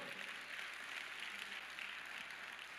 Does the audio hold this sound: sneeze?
no